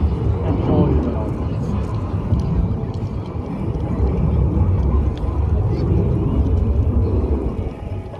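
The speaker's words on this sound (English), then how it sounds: "the noise of this aircraft is just too powerful." A Saab jet aircraft flying at the 2023 Bray airshow produces a loud, continuous, heavy roar and rumble that fills the whole stretch without a break.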